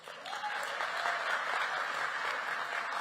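A crowd at an election campaign launch applauds a Tshwane University of Technology choir, dense continuous clapping from many people that swells quickly and holds steady and full for the whole stretch.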